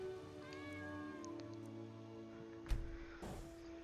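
Cats meow in a Skyrim VR game world, a few clear, drawn-out calls close by. A short thump follows near the end.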